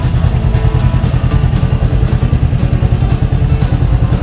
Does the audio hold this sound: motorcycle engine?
yes